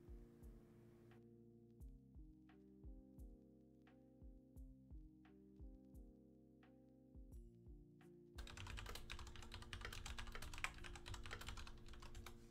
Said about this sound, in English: My typing.